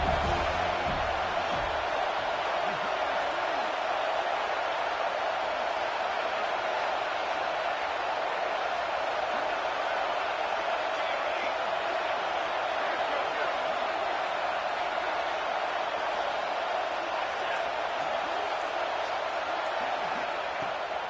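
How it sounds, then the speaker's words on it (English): A large video game stadium crowd at a college football game roars steadily throughout, a dense, continuous wash of cheering noise with a commentator's voice faintly over it. "This crowd bringing the energy and noise early."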